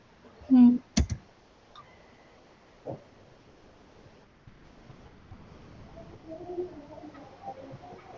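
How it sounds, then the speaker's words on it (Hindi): A computer keyboard key is struck for Enter, a sharp single click near the start followed by a few fainter clicks and soft background noise. "एंटर मार दो"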